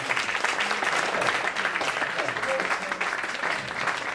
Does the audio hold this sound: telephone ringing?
no